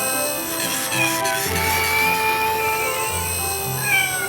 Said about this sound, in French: Quel est ce bruit? La voiture jaune a entendu quelque chose. Oui, c'est un chaton.